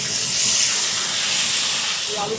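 A loud, steady hiss of tomatoes added to onions sizzling in hot oil fills the brief moment, bright and constant throughout.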